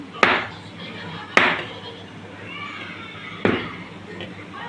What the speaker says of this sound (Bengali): আমি নিয়ে নিয়েছি একটা ছুরি, নিয়ে এইভাবে ছোট্ট ছোট্ট করে কেটে নেব আমি।